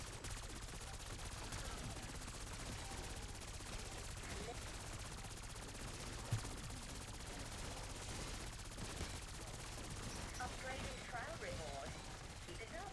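Gunfire in the game Shattered Veil, faint continuous rattling automatic fire running steadily throughout, with a couple of slightly sharper shots standing out.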